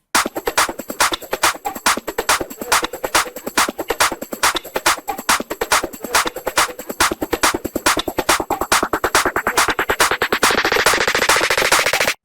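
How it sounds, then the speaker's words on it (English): Rapid, loud electronic drum hits repeat in a steady driving pattern, with a rising noisy sweep building toward the end. "So this is what the drums on the buildup sound like."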